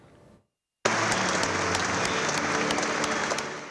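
A brief murmur of sound cuts out, then loud, sustained applause from a large funeral crowd fills the reverberant Basilica of Santa Giustina in Padua and holds steady.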